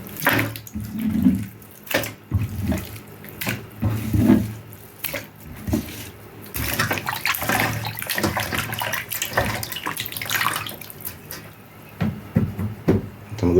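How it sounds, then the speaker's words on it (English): Running tap water splashes steadily over cut-up pork pieces being rinsed, with intermittent clattering and handling sounds throughout; no talking. "So I'm going to wash it in some vinegar water"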